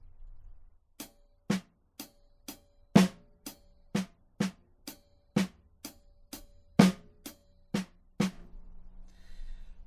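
A steady single-paradiddle drum pattern of sharp, evenly spaced hits, with backbeat accents on beats 2 and 4 making strokes noticeably louder, played alone at a moderate tempo.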